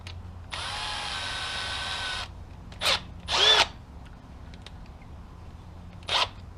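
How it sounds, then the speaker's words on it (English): A small power drill with a bent 1/16-inch bit whirs steadily for about two seconds, followed by a few short bursts and scraping noises, close by with no talking, during a boot resole. "I'm gonna get a bent 16th inch drill bit."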